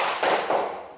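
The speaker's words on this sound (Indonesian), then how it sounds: "Ya, kita berikan aplaus untuk anak Wia." A classroom audience breaks into brief applause for a student, two quick bursts of clapping rising close and loud before trailing off within a second.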